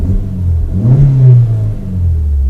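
Manual car engine revved in neutral with the clutch pressed, a loud close rumble that swells in a single rev and settles back to a steady idle drone, no talking.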